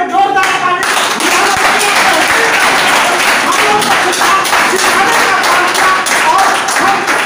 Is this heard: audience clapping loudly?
yes